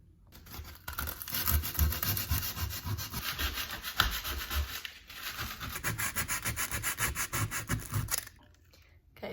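Steady rhythmic sanding of filler on a wall, a gritty rubbing scratch moving back and forth against the hard surface, close and continuous for several seconds before stopping.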